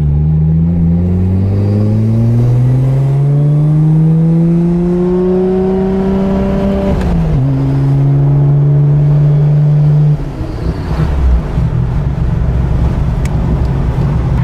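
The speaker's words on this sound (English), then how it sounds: "it's got the Mines front pipe and a full Tomei titanium exhaust" A Nissan Skyline R32 GT-R engine with HKS parts, Mines front pipe and full Tomei titanium exhaust revs hard, deep raspy note climbing in pitch, dropping briefly, then holding a steady loud drone before easing off.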